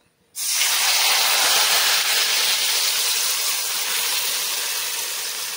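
Spice-coated fried potatoes dropped into hot oil, a sudden loud hiss that bursts in and holds as a steady close sizzle, slowly easing, no talk.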